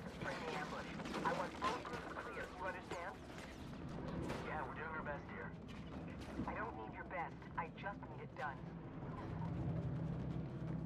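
Gunfire in the Mirror's Edge Catalyst video game, a steady barrage of shots and impacts running through the whole stretch beneath a busy game soundtrack, with someone talking over it.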